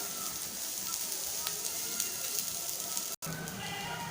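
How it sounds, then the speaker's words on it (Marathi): Steady sizzling of ingredients sautéing in a hot pan for Malvani-style rajma masala, a continuous close hiss with faint crackles throughout. "दोन मिनिटं आपल्याला छान परतवायचं आहे।"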